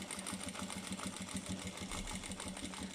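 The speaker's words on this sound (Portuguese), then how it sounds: "E agora cozo aqui este bolsinho deste lado." Sewing machine stitching a small pocket onto a handbag, running steadily with a fast, even mechanical chatter throughout, fairly quiet and without talk.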